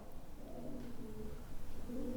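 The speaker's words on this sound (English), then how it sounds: "It's pigeons." Pigeons cooing softly outdoors at night at a prison, low rolling coos repeating through a steady hum of background noise, moderately close.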